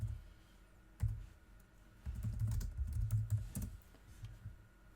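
Typing on a computer keyboard while entering a material search in Cricut settings: close, soft key clicks in short irregular bursts, then a denser run of taps, with no talk.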